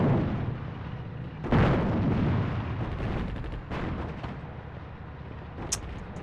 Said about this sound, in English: No, fire this one and the artillery, come on.